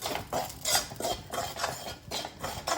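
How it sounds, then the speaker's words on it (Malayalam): Chili and coriander are dry-roasted in a pan, heard as a steady run of scraping, rattling stirs against the metal, soft and close. "നമ്മൾ മുളക് മല്ലിയും വറുക്കുകയാണ്"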